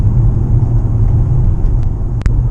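A Mitsubishi PHEV drives along a country road on a Saturday morning, with a steady low rumble of road and tyre noise from inside the cabin and a couple of faint clicks.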